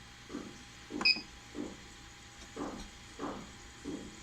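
A defective Creality Ender 3 3D printer strains as its Z axis stepper motor is driven by 1 millimeter and stalls, giving a series of low, rough buzzing pulses at roughly half-second intervals, with a steady hum underneath.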